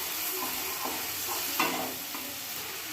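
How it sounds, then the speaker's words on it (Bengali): Spice masala sizzling in a pan with a little water added, a steady hiss with a few soft stirring scrapes, close and without talk. "এবার মশলার মধ্যে সামান্য একটু জল দিয়ে মশলাটাকে আরও একটুক্ষণ কষে নিচ্ছি"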